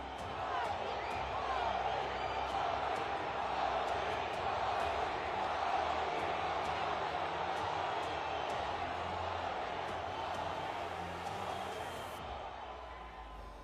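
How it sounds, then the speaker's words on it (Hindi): A packed crowd of 25,000 at Nassau Veterans Coliseum roars and chants for Modi, a loud, sustained wall of voices with rhythmic sharp claps or beats cutting through. "मोदी जैसे ही पहुंचे, पहले मोदी मोदी की नारेबाजी हुई।"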